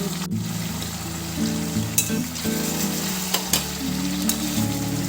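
Chicken frying in a kadai at home while being stirred by hand: a continuous loud sizzle close by, broken by scraping stirring strokes and a few sharp clacks of the spatula against the pan.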